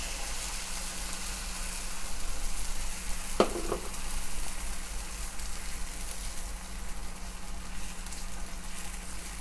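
Mushroom omelette batter is poured into an oiled pan and sizzles, a steady close hiss with a single sharp clink near the middle, no voices.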